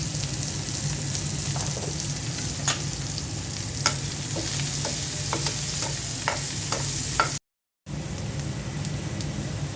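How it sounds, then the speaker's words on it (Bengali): Onion and sweet pumpkin fry in a pan with a steady, close sizzle, broken by scattered stirring clicks and a brief silent gap near the end. "পেঁয়াজ ভেজে নিচ্ছি আরেক পাশে মিষ্টি কুমড়া একটু তাড়াতাড়ি হবে"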